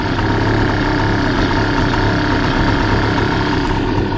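Hangkai 3.6hp outboard motor idling on a boat, a steady, close, continuous buzzing drone with no voices.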